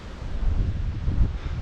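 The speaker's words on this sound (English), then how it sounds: "if this wind is holding up, it'll be really tricky to have" Strong wind blowing outdoors along the seafront at Magaluf, Mallorca, a steady low buffeting roar with gusts rumbling across the microphone, no voices.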